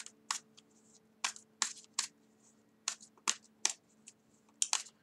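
Tarot cards being shuffled up close in short, crisp bursts with brief pauses between them, over a faint steady hum.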